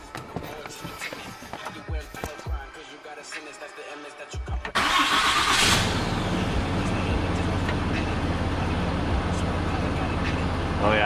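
A 2019 Cummins diesel truck engine cranks and fires up midway, then settles into a steady, loud idle after quieter shop noise and voices at the start.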